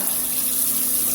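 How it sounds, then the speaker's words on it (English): Tap water runs steadily into a sink while collard greens are washed, a continuous close, even rush of flowing water with no talking. "wash the collard greens"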